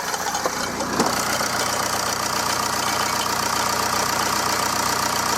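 A car engine idling with the drive belt and engine cover fitted, a steady close mechanical drone with a faint repetitive ticking knock running through it and one brief clack near the start.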